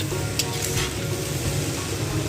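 Steady soft sizzling of egg fried rice frying in a pan, with a few faint scraping stirs, close by and continuous.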